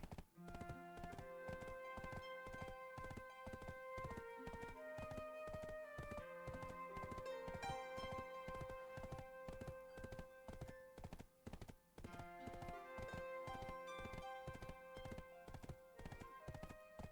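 Horse hooves clip-clop in a steady, even rhythm throughout in the online role-playing game Black Desert, with faint background music underneath. Nobody speaks.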